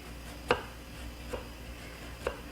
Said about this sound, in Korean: 바늘구멍에 들어갈 정도로 실처럼 가늘게 썰어주시면 돼요